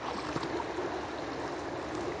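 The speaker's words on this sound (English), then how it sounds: "since this is just pond, creek, stream water, you can just pour it right back into where you found it" Stream water poured back into a creek, a steady soft trickling and splashing that runs continuously, close by and fairly quiet, with no voices.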